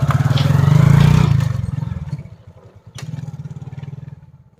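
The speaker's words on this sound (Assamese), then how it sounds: "বাইকখনৰ মাতটো শুনিছো" A motorcycle engine approaches and rumbles close by, loud and rough at first, then dropping away before another burst of idling putter, with a few clattering knocks.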